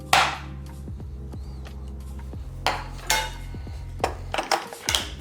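Oat porridge with added nuts is stirred in a bowl, a spoon scraping and clinking against the sides in several short bursts with brief pauses, close and clear with no talking.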